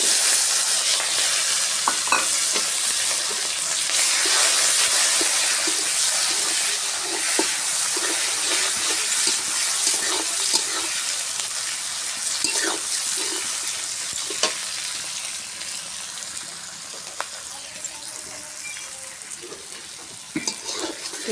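Onions sizzle and fry steadily in a hot pan for a fish curry on a small home stove, with occasional stirring scrapes and bursts of steam hiss over a constant loud crackle.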